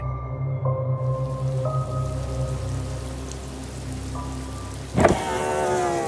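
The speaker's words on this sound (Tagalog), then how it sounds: "Ang lakas pa naman ng ulan." Heavy rain pours steadily in an audio drama scene beside a broken-down car, a continuous hiss with low tonal hum, briefly broken by a sharp knock-like burst near the end.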